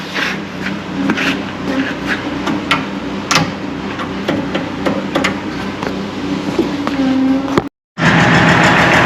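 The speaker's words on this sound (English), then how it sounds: "It was one start, one pull. Fired right up." A small engine, started with a single pull, runs at a steady idle near a wood-splitting site, with sharp knocks and clatter over a low, continuous hum, cut by a brief dropout near the end.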